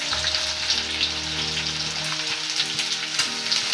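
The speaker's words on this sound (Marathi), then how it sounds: "आणि मोहरी थोडीशी तळली गेली की नंतर त्याच्यामध्ये कांदा घालणे।" Onion sizzles in hot oil with mustard seeds and cumin in a pan, a steady close crackle with a faint low hum beneath and no talk, while a Marathi drumstick-flower vegetable dish is being cooked.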